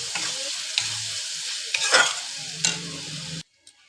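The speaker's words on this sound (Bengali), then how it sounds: "এবার আমি ভালো করে মশলাটাকে কষিয়ে নেব।" Spice paste with ground cumin is sautéed in a pan for an egg and paneer curry. Loud, close sizzling runs under repeated scraping strokes of a spatula, then cuts off abruptly near the end.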